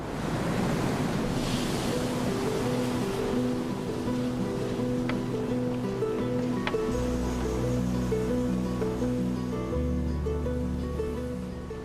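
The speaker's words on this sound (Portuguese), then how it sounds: "Ao lado da cidade de Chan Chan está o poderoso Oceano Pacífico" Pacific Ocean surf beside Chan Chan makes a steady, full wash of breaking waves that continues for the whole stretch, with sustained musical tones layered over the roar.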